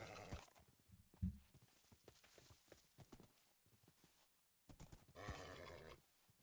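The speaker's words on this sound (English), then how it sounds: "There's a horse." A horse in Minecraft with the Cobblemon mod neighs and whinnies in a few spaced bursts, with soft hoof-like clops between them and no talking.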